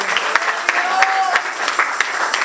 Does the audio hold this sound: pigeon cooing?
no